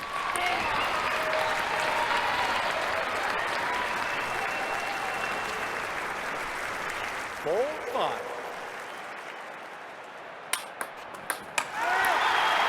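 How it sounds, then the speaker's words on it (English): Crowd applause from an Olympic video game swells into a dense, sustained roar that gradually thins out, followed by a few sharp, isolated ping-like hits near the end. "Crowd starting to get into the game as the rally starts building."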